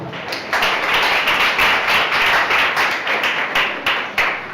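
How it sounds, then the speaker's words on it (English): An audience at a school career summit claps together in dense, continuous applause that swells and holds steady for several seconds. "I want you to clap for your school."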